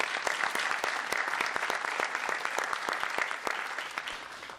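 An audience at an investor panel opening gives a round of applause, a dense, steady wash of many clapping hands that continues evenly and fades slightly toward the end.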